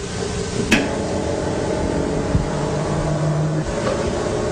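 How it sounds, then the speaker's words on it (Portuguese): An electric motor being energized and brought up toward about 150 volts runs as a steady, loud mechanical drone with a low tonal hum, broken by a couple of brief clicks and clunks. "the motor will start running"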